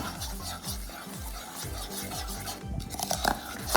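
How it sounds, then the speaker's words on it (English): Muffin mix being stirred by hand with half a cup of milk added, a steady rhythmic scraping and swishing of a utensil in a bowl, with a few sharper clinks near the end. "Now we will add in our 1/2 cup of milk. And we will stir this up."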